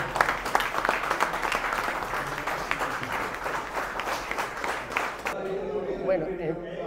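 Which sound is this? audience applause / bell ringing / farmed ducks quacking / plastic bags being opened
audience applause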